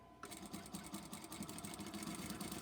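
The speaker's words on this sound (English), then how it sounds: "Let me sew a couple of these" A sewing machine stitches half square triangles for a quilt in a quick, steady, close mechanical chatter that runs unbroken after a brief start, with no talking.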